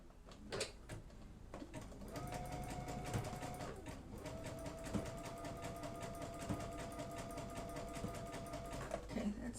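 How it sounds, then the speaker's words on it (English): A sewing machine stitches knit fabric with a steady, fast mechanical whir and rhythmic needle clatter, running continuously after a brief start, quiet and close. "And I'm just going to sew. I'm just going to sew halfway down."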